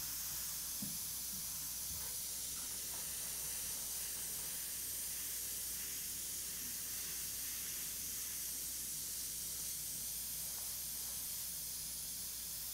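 An airbrush sprays paint through a stencil as a continuous soft, airy hiss with no breaks, steady and faint at close range.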